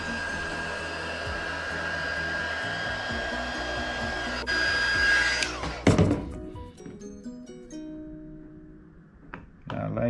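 A heat gun blows a steady, loud whirring roar while warming carbon fiber wrap on a 2011 Subaru WRX/STI radio bezel, then cuts off, followed by a thunk, a descending whine and quieter handling sounds.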